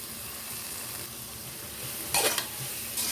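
Chicken gravy ingredients with mint and coriander leaves sauté in a hot pan, giving a soft, even sizzle, then two short, louder bursts of crackle as the mix is stirred.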